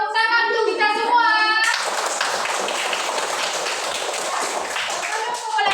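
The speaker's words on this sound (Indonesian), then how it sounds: "Tepuk tangan untuk kita semua." Children in a classroom sing briefly at the end of a lesson, then burst into steady, lively clapping that continues for several seconds, close and loud.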